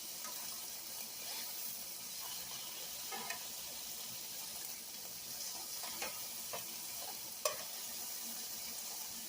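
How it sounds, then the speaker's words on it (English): Steady crackling sizzle of bacon frying in a pan, with scattered louder pops and spits throughout. "Oh, that's frying up pretty good."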